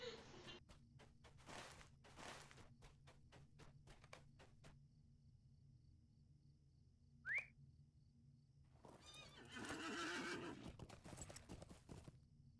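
A horse in the online game Lord of the Rings Online (LotRO) clip-clops in a steady run of hoofbeats, gives one short sharp whinny, then a louder burst of movement and a neigh follows.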